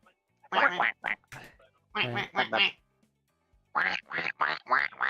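A person imitates a duck with a string of nasal quacks: two short groups, a pause, then a rapid run of five or six closely spaced quacks, near and fairly loud with no other sounds.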